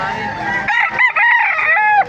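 A rooster crows loudly and close by, its call rising and breaking, with clucking from other fowl around it at a market in Baliuag, Philippines.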